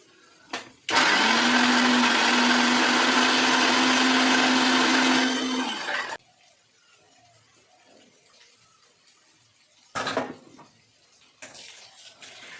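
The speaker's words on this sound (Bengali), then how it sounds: "তো এই দেখো মশলাটা আমি এইভাবে পেস্ট করে নিলাম" A kitchen blender grinds dry chilli, tomato, ginger and cashew into paste, a loud steady whirring roar for about five seconds that then cuts off, followed by short clattering bursts.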